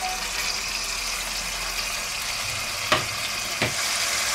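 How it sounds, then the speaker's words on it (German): Beef roulades sear in hot oil in a cocotte, a steady close sizzle and crackle with two sharp clatters from turning or handling near the end. "Jetzt brutzeln wir die Rindsrouladen von beiden Seiten ein bisschen braun an."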